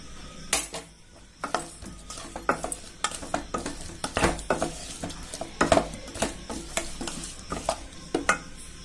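A spoon stirs gooseberry pickle with chili powder in a pan, giving irregular scraping and clinking strokes against the metal with a faint sizzle beneath, close and moderately quiet, with no talk.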